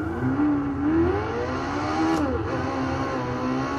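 McLaren race car engine in a sim racing game at Zandvoort, revving with rising and falling pitch sweeps as gears shift, loud and continuous with a brief high whine midway.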